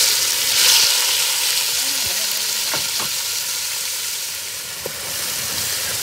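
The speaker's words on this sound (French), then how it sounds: "L'huile est bien chaude, donc je mets les mélanges dedans." A fish seasoning sauce mixture with onions hits very hot oil in a pan, giving a loud, continuous close-up sizzle that stays steady throughout, with a few faint clicks and no talking.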